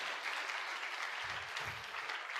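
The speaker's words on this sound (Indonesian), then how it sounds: "Mari kita beri aplaus yang sangat luar biasa untuk semua para pengundang-pengundang kita" An audience at a motivational seminar applauding, a dense, steady wash of clapping from many hands that fills the whole moment at moderate loudness.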